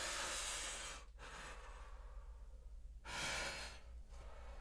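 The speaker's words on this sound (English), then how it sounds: "Breathing in and out." Slow breathing in and out during a gentle guided movement and contemplation session, soft airy inhales and exhales that swell and fade, faint and close.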